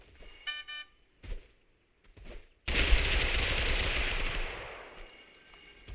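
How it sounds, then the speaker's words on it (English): Gunfire in the video game Totally Accurate Battle Simulator: a few short clipped bursts, then a sudden loud sustained barrage of rapid shots that fades toward the end, no talking. "None of those shots hit him."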